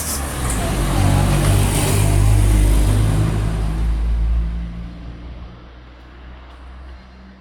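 A car drives along a narrow street lined with parked cars in Ragusa, Sicily. The engine swells close by, then fades into the distance, with faint voices in the background.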